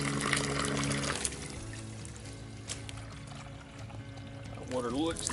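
Water pours and trickles into a water filter outdoors on a forest hike in Florida, a steady splashing stream that carries on under ambient noise, with brief bits of voice near the end.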